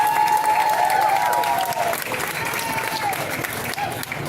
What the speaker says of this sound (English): So give another round of applause.